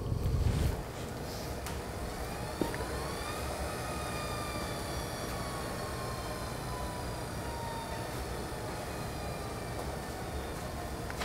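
A wood lathe runs at very slow speed while turning a toy top, a steady low mechanical hum with faint whining tones that drift in pitch, continuous and even throughout.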